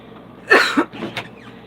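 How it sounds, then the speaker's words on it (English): A couple of short, harsh coughs close by, a sharp burst followed by a second, then a smaller throaty hack, with quiet room noise around them. "it makes me cough"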